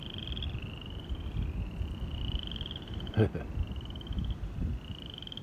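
Frogs croak and trill in repeated high calls from a little distance, with a brief knock partway through and a low wind-like background.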